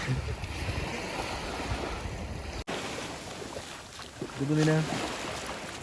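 Sea waves breaking on a beach, a steady broad wash of surf with gusty wind buffeting the microphone, swelling louder near the end.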